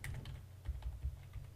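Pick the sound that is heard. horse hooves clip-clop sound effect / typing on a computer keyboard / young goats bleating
typing on a computer keyboard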